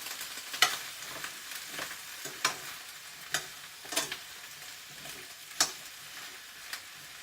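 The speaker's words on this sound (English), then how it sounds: "Now that my eggplant is sizzling it up a little bit, I'm going to just make sure that I mix it around." Eggplant sizzles in a pan under a soft continuous hiss while a utensil stirs it, giving irregular sharp scrapes and taps every second or so, close and without talk.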